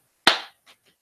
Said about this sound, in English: we're all going to clap to synchronize